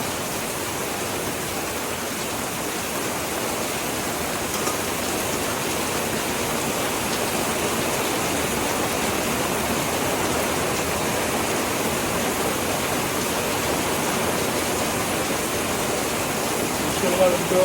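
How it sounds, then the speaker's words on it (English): Heavy pouring rain outside a Texas burger joint makes a steady, dense broadband hiss that holds at an even level throughout, with no distinct drops or pauses. "It is pouring rain."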